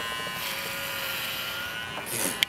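Hair clipper with its taper lever closed cutting through gelled hair, a steady close electric buzz for a couple of seconds ending in a brief sharp click, with no talking.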